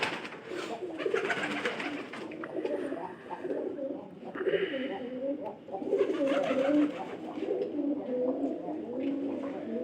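Pigeons coo continuously in a low, throaty rolling rhythm, several birds close by and overlapping, with a faint voice murmuring underneath.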